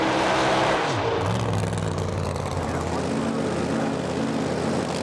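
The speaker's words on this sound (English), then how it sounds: "So Wayne with a very short burnout" Pro Mod drag racing car at the 2017 British Drag Racing Championship doing a very short burnout, a loud, raw engine roar that is sustained and close, lasting the whole stretch.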